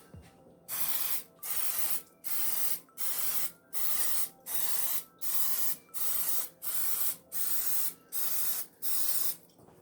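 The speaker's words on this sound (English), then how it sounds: "I want to divide that up into my muffin pan, which I'm spraying now" A can of cooking spray sprays into a muffin pan in about a dozen short, even bursts, a steady rhythmic hiss with brief gaps between each spray, close by.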